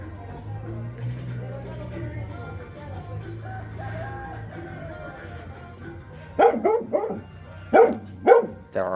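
A mother dog with puppies nearby gives several sharp close barks near the end, after a quieter stretch with low rumbling background sound.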